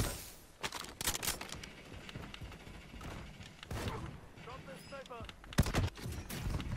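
Gunfire and a possible RPG blast in the Call of Duty Warzone video game, sharp loud shots and bursts scattered through the stretch over mechanical game noise, with voices talking in between.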